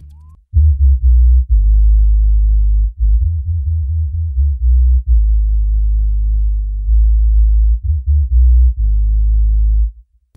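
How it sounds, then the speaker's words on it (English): A deep, filtered synth bass line on a Boss RC-505 loop station loops through a repeating riff of low sustained notes with short gaps, loud and alone. "And then the bass line sounds like this."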